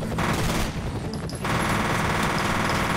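Rapid, continuous automatic gunfire in the video game F.E.A.R., a dense, loud rattle of overlapping shots that runs without a break and has no talk over it.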